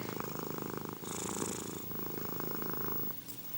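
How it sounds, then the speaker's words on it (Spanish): A cat purrs close up in a soft, rhythmic rumble, with steady pulses of breathing in and out over a few seconds and no voices. "Este ruidito que hacen de..."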